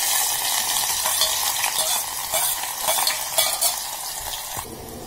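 Garlic, onion and green chili sizzle and crackle steadily in hot oil in an Indian egg bhurji pan, a dense continuous frying hiss with occasional stirring scrapes, close and fairly loud with no talking.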